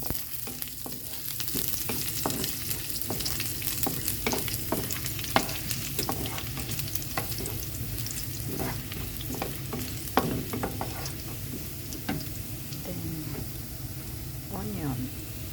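Garlic sizzling in a pan with adobo pork ribs, a steady frying hiss with scattered stirring clinks and scrapes, while someone talks over the cooking.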